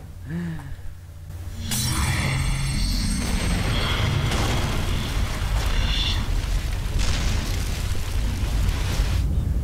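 A missile explosion in the video game Prototype sets off a loud, sustained roaring blast with crackling debris and rumbling that fills the rest of the moment after a brief quieter lead-in.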